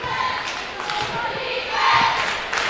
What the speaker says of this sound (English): So the crowd coming alive here early on